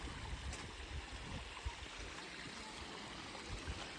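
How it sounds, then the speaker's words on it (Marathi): Steady, low rushing of flowing stream water near a hill temple fills the scene, a continuous broadband wash with faint bubbling and no voices. "हे ओरचं पाणी आहे"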